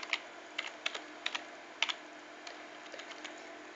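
Keys tapped on a computer keyboard close by, a loose burst of quick irregular clicks with short pauses, fading to lighter taps toward the end.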